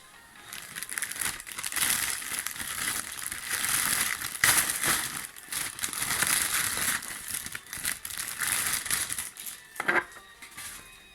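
A Street Fighter Dhalsim figure box is opened with continuous crinkling and crackling of plastic packaging, rustling loudly and close throughout.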